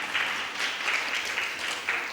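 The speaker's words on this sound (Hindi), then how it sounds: "आप जो ताली बजा रहे हैं" Audience applause at a religious discourse by a Jain monk in Kota, Rajasthan: a steady, dense wash of many hands clapping, moderately near and fairly even throughout, with no voices over it.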